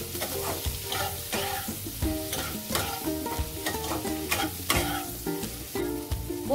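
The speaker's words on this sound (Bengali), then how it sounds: "আমার মূলো আর আলুটা ভাজা হয়ে গেছে" Radish and potato pieces fry in a pan with salt and turmeric, giving a steady crackling sizzle broken by scraping stirs, with background music playing throughout.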